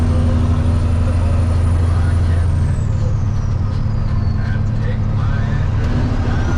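Semi truck engine droning loud and steady from inside the cab while driving down the road, with a low rumble whose pitch shifts partway through.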